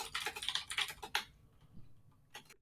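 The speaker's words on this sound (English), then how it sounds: "That keyboard is so loud." Rapid clacking of a loud computer keyboard being typed on quickly, a dense burst of keystrokes at close range, then a pause and a short final few taps.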